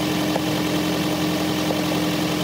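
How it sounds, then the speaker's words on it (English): A car engine idling at a standstill after a catalytic converter anti-theft clamp was fitted, a steady low hum with a constant droning tone, close and even throughout, no voices. "with the engine running, it's fine."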